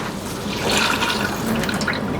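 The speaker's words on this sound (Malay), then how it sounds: "Okey, kita masukkan sedikit air." Water pours steadily into a cooking pot during preparation of a Padang-style coconut chicken curry with pepper and dried tamarind slices, a continuous close splashing fill lasting about two seconds with no talk.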